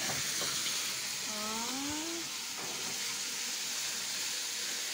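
Chili paste for sambal tumis ikan bilis frying in a pan, giving a steady, fairly loud sizzle and hiss that runs throughout, with a brief rising squeak near the start and no talking.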